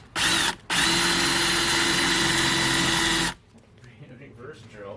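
A power drill run in reverse while drilling into plastic gives a loud, steady whine close by, cut off briefly after a short burst, then running for about three seconds before stopping, with faint voices and rustling afterward.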